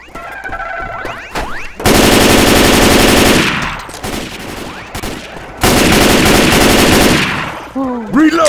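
Two long bursts of rapid automatic gunfire in Left 4 Dead 2, loud and close, separated by a pause, with a voice talking and game sounds around them.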